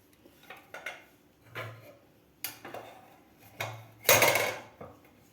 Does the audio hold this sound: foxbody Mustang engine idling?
no